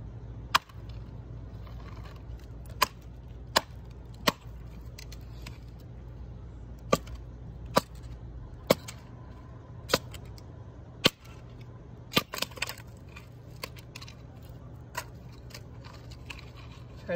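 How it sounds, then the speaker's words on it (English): An axe splits a log into kindling at a campsite, sharp single cracking strikes landing at irregular intervals of a couple of seconds over a low steady background hum. "I'm going to let the axe and the log do all the work for me"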